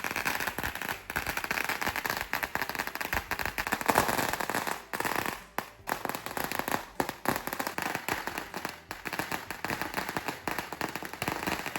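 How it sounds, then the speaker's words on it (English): A big firecracker finale at Chinese New Year in Malaysia, a long loud rapid chain of crackling bangs going on almost without pause, briefly thinning midway before resuming at full intensity. "This big cracker was the finale."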